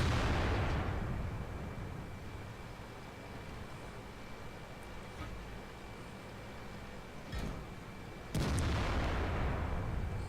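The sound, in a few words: tank cannon fire in World of Tanks video game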